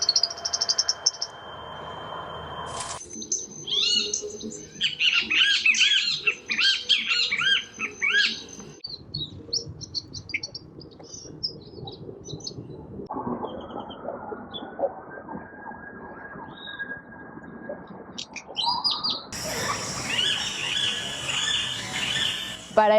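Several wild bird songs follow one another, mixing local and migratory patterns: rapid trilled chirps, sharp whistled notes and buzzy insect-like phrases, clear and fairly close, with varied rhythms and no talking.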